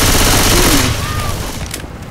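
Rapid gunfire from a Left 4 Dead 2 match forms a loud, dense burst of shots that fades slightly after the first second, with a brief voice underneath.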